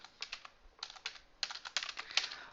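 Light, quick typing on a computer keyboard, soft irregular clicks in short clusters with brief pauses, close and quiet with no talking.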